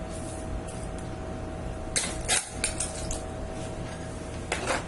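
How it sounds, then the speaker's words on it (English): Ingredients mixed by hand in a bowl for shepherd's pie, heard as a steady soft scraping with scattered clinks of a utensil against dishware, close and moderate in loudness, busiest in the second half. "I mix them really well"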